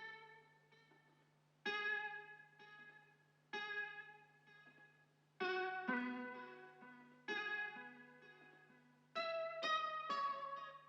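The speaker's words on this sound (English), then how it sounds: "Then I added this like pluck mellotron sound that sounds like this." A plucked mellotron-style keyboard tone drenched in reverb and flanger sweeps through short melodic phrases in repeating bursts, each note decaying into a wash, over a steady low hum.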